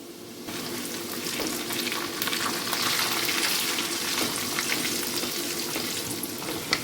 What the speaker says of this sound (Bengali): সর্ষে ফাটতে শুরু করেছে আর মশলাও ভাজা হয়ে গেছে